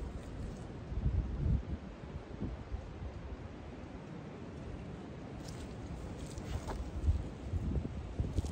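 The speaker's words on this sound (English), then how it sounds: "All that wind, tough." Wind blows outdoors during a fishing trip, buffeting the microphone with low, steady rumbling gusts that swell and fade, with faint rustling over the top.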